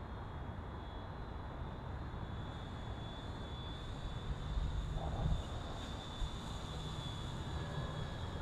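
An E-flite Turbo Timber RC plane running on a 3S or 4S Spektrum Smart LiPo drones steadily in the distance on a breezy day, with a thin high whine that swells slightly midway and wind noise throughout.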